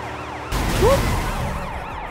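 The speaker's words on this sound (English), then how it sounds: "You ever heard police sirens before?" Police sirens in the video game Sleeping Dogs wail in rising and falling sweeps, starting abruptly at moderate loudness over a low rumble of game noise and continuing steadily to the end.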